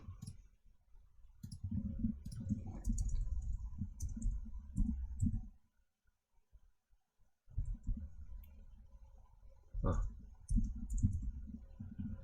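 Computer keyboard keys and a mouse click in short bursts on a desk while working in dental design software, heard close under steady speech, with a brief quiet gap partway through.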